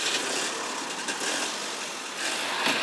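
A truck engine runs steadily with a broad, hissing rumble, close and continuous, without any talking.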